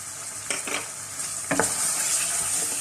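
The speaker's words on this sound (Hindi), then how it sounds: "इसको मिक्स कर लेंगे और कसूरी मेथी ये भी डाल देंगे" Mutton karahi with garam masala being stirred in a sizzling pan, a steady fry hiss carrying a few distinct spoon scrapes and clanks, close and fairly loud with no voices.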